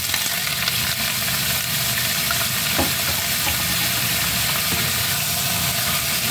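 Carrots and potatoes frying in a pan for chicken afritada, producing a steady, close sizzle with a soft crackle and a single sharper clink about a third of the way through.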